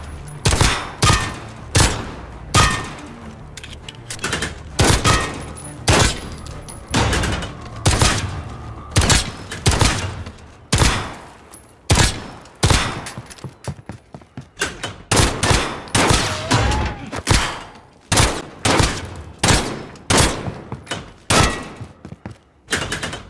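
Gunfire rings out on a Call of Duty Modern Warfare shooting course as sharp, loud shots come singly and in quick clusters at an irregular pace, each followed by a brief echoing tail.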